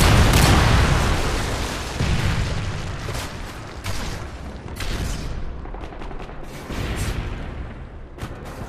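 A Predator missile strike in Call of Duty: Modern Warfare 3 on the Arkaden map erupts as a loud, rumbling blast, followed by several further booms and bursts of gunfire that slowly fade.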